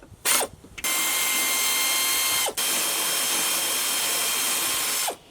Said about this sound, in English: 10mm socket for the airbox with the long extension